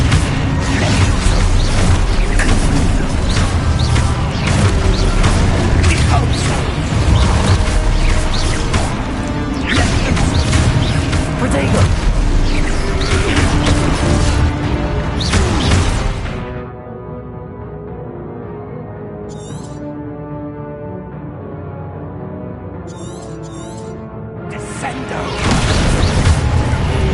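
Spell effects from Hogwarts Legacy crash, boom and whoosh in a dense, loud barrage for about sixteen seconds, give way to a quieter stretch with a few short bursts, then swell again near the end.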